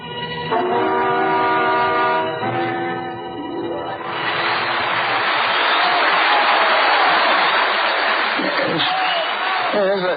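Theatre audience applause for a ventriloquist, a loud sustained wash of clapping that swells in after a few seconds of other sound and continues steadily to the end.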